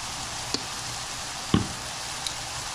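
Onions and garlic for beef stroganoff sizzle in oil in a pan, a steady dense hiss broken by a few soft knocks and pops, close and continuous without talk.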